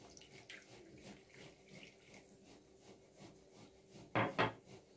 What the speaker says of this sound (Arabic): هنزل بنص كوبايه ميه دافيه